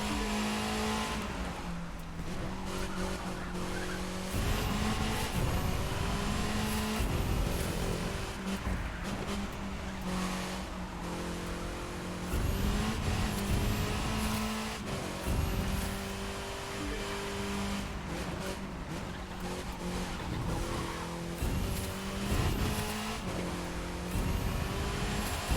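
Race cars in a racing video game roar continuously with rising and falling engine pitch as gears shift, loud and close throughout, with occasional tire skids and squeals between bursts of acceleration.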